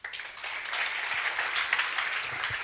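Church congregation clapping together in a steady burst of applause, close and continuous for a few seconds with no talk over it.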